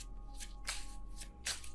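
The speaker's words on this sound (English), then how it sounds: "I feel like that was a little bit of a bad shuffle" A deck of tarot cards is shuffled by hand in a few quick riffling bursts, close and fairly quiet, with no talking over it.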